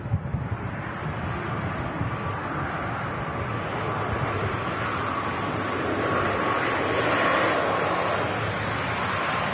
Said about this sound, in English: Another Ryanair Max 8200 touching down.